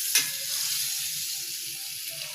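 Butter melting in a hot pan, giving off a steady, close hiss and fine crackle of sizzling with a soft tap at the start and no talk.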